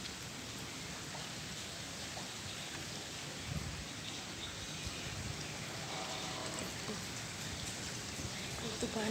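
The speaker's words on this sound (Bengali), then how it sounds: "এখন ঝুরি ঝুরি বৃষ্টি পড়তেছে" Heavy rain pouring down on a flooded road, a steady, fairly faint hiss of falling water that holds without a break, with no talk.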